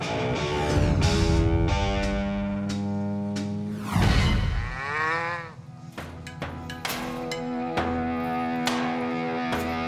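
Cattle in a Montana ranch herd low and bleat repeatedly, several overlapping harmonic moos of varying pitch rising and falling close by, with no talking.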